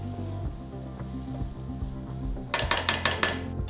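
Semolina and gram flour being stirred and roasted in a pan over low heat, with soft scraping and light taps of a spoon, followed by a cluster of sharper metallic clinks near the end.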